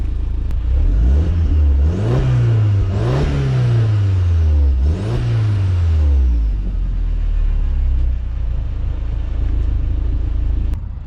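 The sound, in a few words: 2005 Audi TT Quattro MK1 stock exhaust engine revving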